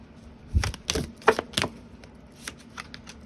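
Cards of a Starman Tarot deck riffled and shuffled by hand, a handful of crisp papery slaps and flutters in an uneven burst, close and fairly quiet.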